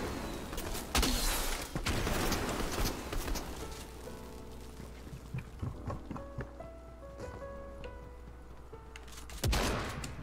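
Fortnite gunfire in a battle royale match: a couple of sharp, loud broadband shots near the start and another near the end, with game music tones and ambient sound filling the gap between them.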